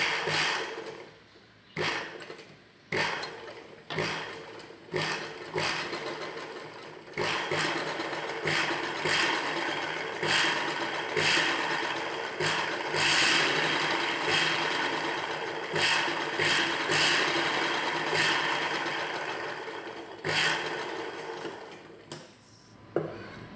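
A sewing machine stitches blouse lining, buckram and patch pieces together along the neck edge in short start-stop bursts at first, then a long continuous run of fast close-up stitching before stopping again.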